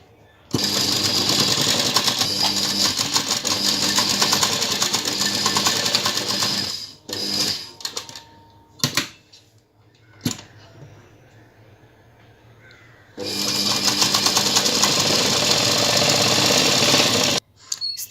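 A sewing machine stitching the neck of a blouse runs in two long, rapid, loud mechanical bursts separated by a quiet pause with a few handling clicks.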